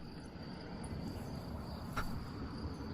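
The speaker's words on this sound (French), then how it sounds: "on n'entend pas beaucoup, mais et les petits grillons et tout, c'est sympa" Faint, steady chirping of crickets in a quiet Austrian countryside setting, a continuous high trill over low background hiss.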